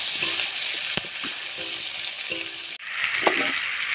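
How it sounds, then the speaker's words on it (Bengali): Onion, tomato and chopped capsicum frying in a pan in a village kitchen, a continuous close sizzle with occasional clinks and stirring scrapes, no speech. "ক্যাপসিকাম আর পেঁয়াজ হালকা হালকা ভাজা হয়ে গেছে"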